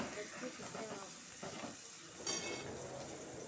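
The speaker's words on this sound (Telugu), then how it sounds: "ఈ ఆనియన్స్ పచ్చిమిర్చి మంచిగా ఫ్రై అయ్యేంత వరకు మేము ఇక్కడ వేయించుతున్నాం" Onions and green chillies fry with salt in a pan, a soft, steady sizzle with occasional stirring scrapes, fairly quiet and unbroken.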